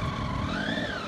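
Triumph Speed Triple ABS three-cylinder engine whining at speed, a loud, continuous high-pitched tone sliding gradually upward over dense road and wind roar.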